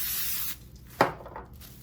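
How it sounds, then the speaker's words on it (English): Cooking oil sprayed onto plastic wrap for covering peasant bread dough in a home kitchen: a short hissing burst up front, then a brief sharper spritz and soft rustle, close and alone. "give it a little spray"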